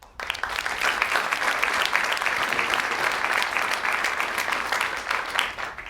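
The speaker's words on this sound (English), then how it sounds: "Let's give them a round of applause" Audience applause for the panelists at the close of a NASA Asteroid Initiative industry and partner day event, a steady, dense wash of many clapping hands that swells quickly and holds loud and even for several seconds.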